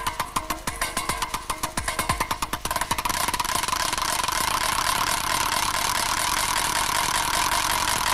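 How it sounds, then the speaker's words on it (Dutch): A large ship engine cranks with rapid rhythmic chugging pulses, then catches and settles into a steady, continuous droning run. "Langzaam maar zeker begonnen de motoren te draaien."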